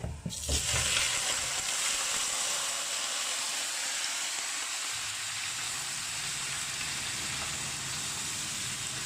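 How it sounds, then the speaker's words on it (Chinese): Chicken pieces hit a hot wok in a Chinese braised chicken dish, starting with a brief clatter and then settling into a loud, steady hiss of frying that keeps going without a break. "将鸡块倒入锅中"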